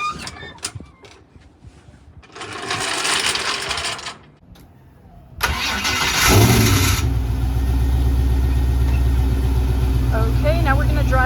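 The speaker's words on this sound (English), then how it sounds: "now we're gonna drive the Firebird into the garage" A Pontiac Firebird with an LM4 engine starts up and idles with a loud, steady rumble after some clinking and shuffling, with people talking over it.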